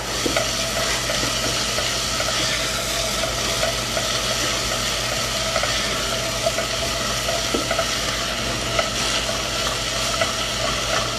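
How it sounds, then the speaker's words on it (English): Chopped onion softening and being stirred in a hot pan for mac and cheese gives a steady, close, even sizzle with faint scraping, continuous throughout with no talking. "Give that a bit of a stir. And I'm going to let the onion soften for just 30 seconds to a minute here."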